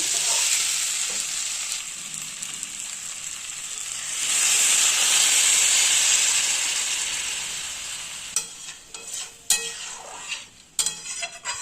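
Water added to a frying curry of young jackfruit and potatoes, a close, loud, steady sizzle that surges and then fades, followed by scraping and clattering stirring against the pan.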